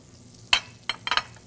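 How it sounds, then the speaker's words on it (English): Butter hits a hot roasting pan coated with venison drippings, giving three short bursts of sizzle separated by brief quiet, close and fairly loud over a faint background. "So we have our hot pan here. This has all like the roasting particles from the venison in there. So we add a little bit of butter"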